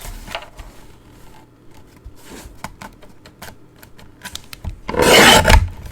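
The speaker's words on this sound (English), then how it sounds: "Let's cut it this way." Card stock being cut with a paper trimmer makes a short series of light scraping and clicking sounds, then ends in one louder, longer rasping slice near the end.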